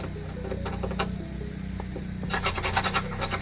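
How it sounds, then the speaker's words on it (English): A metal file deburring drilled holes in steel for an external cage rack, rasping in steady back-and-forth scraping strokes, close and continuous, becoming louder and harsher in the final second. "Here's what I like to use, a metal file."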